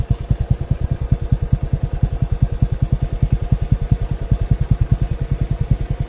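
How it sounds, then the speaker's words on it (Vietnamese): A Honda Wave RSX motorcycle engine, rebuilt after 107,000 km, idles close by, a steady and even rapid putter of firing pulses with a light mechanical clatter and no speech over it. "Đây cái máy nè anh em. Đó, êm ru nha anh em"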